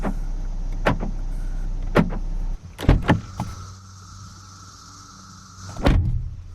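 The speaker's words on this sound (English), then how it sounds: "VW has the most satisfying feeling lock, unlock, and door shutting experience in the car biz." A 2022 Volkswagen Taos being locked, unlocked and having its door shut: sharp mechanical clicks and solid thunks spaced out over several seconds, with a low whirring motor sound in between, close up and clear.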